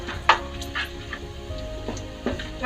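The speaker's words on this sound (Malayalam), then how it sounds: "ഇഞ്ചി ഒന്ന് മൂത്ത് ഇഞ്ചിയുടെ പച്ച കുത്ത് മണം അതൊന്ന് മാറുന്നത് വരെ ഒന്ന് വെയിറ്റ് ചെയ്യാം" Chopped ginger fries in oil in a pan for an egg roast, giving a soft, steady sizzle with occasional sharp pops and clinks from stirring, heard close in a quiet kitchen.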